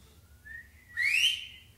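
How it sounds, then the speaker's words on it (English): A single human whistle rises in pitch, first faint and brief, then a louder, sharper swooping note lasting about half a second, with no talk. "Now go ahead and whistle as loud as you can."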